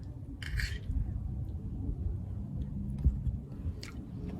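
Someone chews a mouthful of a vegetable dish with cabbage, carrot, spinach, broccoli and capsicum, soft close-up crunching and squishing bites, with a couple of faint clinks of cutlery.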